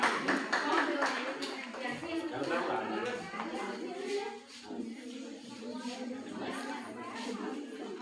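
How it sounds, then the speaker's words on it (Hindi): Audience members at a girls' intercollege school programme clap for a student called to the stage, a moderate crowd patter mixed with shuffling and murmured chatter, fairly distant and slowly easing off. "छात्रा के लिए जोरदार तालियां"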